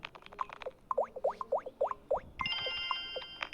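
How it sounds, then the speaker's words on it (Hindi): A phone rings faintly in a steady electronic tone, entering partway through and mixing with chirpy, repeated sound effects from the Rush Tezz Ludo online board game. "ये फ़ोन कौन कर रहा है?"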